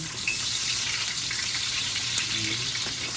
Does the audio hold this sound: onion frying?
yes